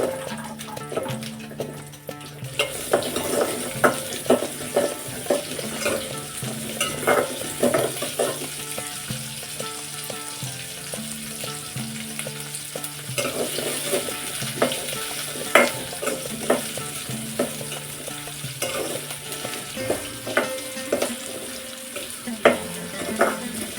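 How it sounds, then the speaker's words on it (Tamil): Sliced onions with curry leaves frying in hot oil for a brinjal gravy, a continuous close sizzle broken by frequent scraping and clacking stirs over about twenty-four seconds. "வெங்காயம் நல்லா எண்ணெயிலே வதங்கணும்."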